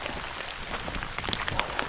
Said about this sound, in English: as the rain has picked up